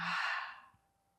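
A single soft exhale during a yoga breathing exercise, a breathy airy sigh lasting under a second that fades into quiet.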